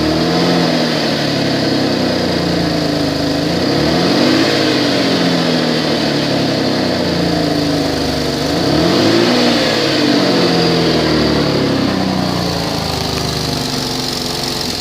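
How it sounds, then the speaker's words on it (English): A 2012 Chevrolet Impala with an exhaust leak at the flex pipe runs loud and close, with a steady, rasping idle broken by two rising and falling revs. "There is an exhaust leak on the flex pipe."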